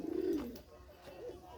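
A racing pigeon gives a short, low coo close by, followed by softer murmuring and a faint trailing warble.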